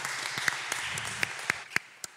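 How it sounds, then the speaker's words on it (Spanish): At a poetry recital celebration, a small audience applauds the invited poets, with scattered, distinct individual claps standing out over a thinner wash of clapping. "un aplauso para nuestras poetas invitadas"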